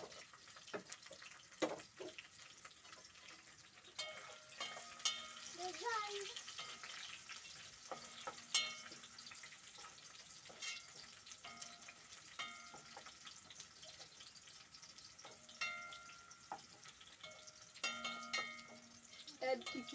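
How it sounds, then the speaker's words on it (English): Fried pork cooks with onions and tomatoes in a pan, a continuous low sizzle with occasional stirring scrapes and clinks, and someone talking over it now and then. "Now I'm going to cook it with onions and tomatoes."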